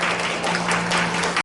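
An audience claps for a group photo at the founding ceremony of a Korean agriculture and food policy forum: dense, steady applause from a crowd, close and loud, cutting off abruptly at the end.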